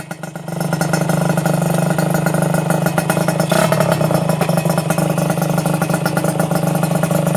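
125cc Thai motorcycle engine running close and loud, a continuous throbbing buzz that rises into a sustained rev with slight swells, with no speech over it.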